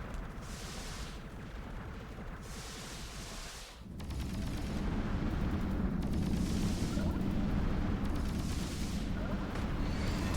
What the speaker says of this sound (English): I don't know what all those explosion sounds are